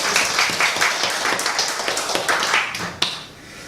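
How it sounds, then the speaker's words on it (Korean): A church congregation applauds in thanks at a dawn prayer service, a dense, steady wash of many hands clapping that carries on evenly and fades toward the end. "감사의 박수를 드립니다"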